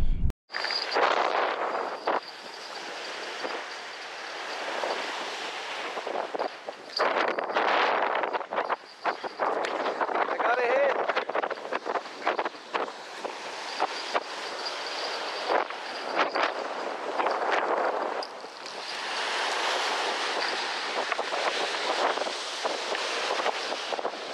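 Strong wind gusts buffet the microphone on a lake while fishing for walleye, a continuous roaring rumble that swells and eases over the whole stretch, with no talking.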